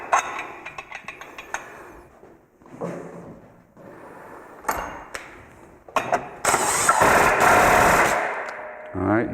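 An impact wrench tightens a bolt on a Polaris RZR or Ranger belt cover, with short rattling bursts followed by a longer, loud hammering run near the end.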